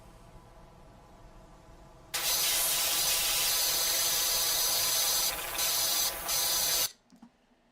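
Nozzle spray from a pressure washer in a power washing video game, a loud steady hiss lasting about five seconds. It dips briefly twice as the spray is interrupted, then cuts off abruptly.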